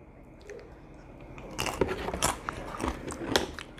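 Someone eats spicy carne con chile up close, with soft wet chewing and a few crisp bites growing louder after a quiet start.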